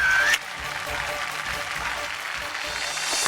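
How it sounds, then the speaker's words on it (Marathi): Audience applause at a televised women's celebration show rises after a brief opening tone and holds as a steady, fairly loud wash of clapping to the end. "जोरदार टाळ्या होऊन जाऊ देत."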